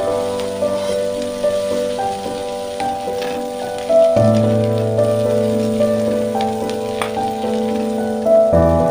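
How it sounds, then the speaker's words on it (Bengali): Prawns fry in mustard oil in a kadai with a continuous crackling sizzle, close and fairly loud, with occasional stirring taps and a steady hum underneath. "চিংড়ি মাছটি ভাজা ভাজা হয়ে এলে এটিকে আমরা তুলে নেব"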